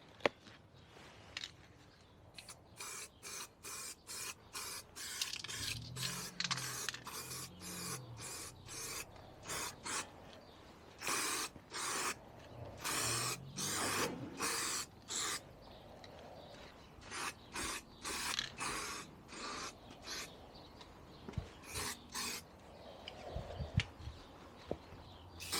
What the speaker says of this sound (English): we'll give it a go with some etch primer